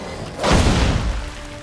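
A gunshot from a weapon in the Assassin's Creed III game sounds once as a single loud, booming blast and fades over about a second, with nothing else around it.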